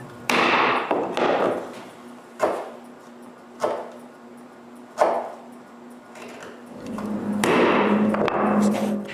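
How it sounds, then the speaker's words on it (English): A chisel chops out waste wood for hand-cut dovetail joints. Several sharp, hard knocks ring out at uneven intervals, each with a short woody decay, and a rougher scraping rush follows near the end. "I need to remove unwanted wood."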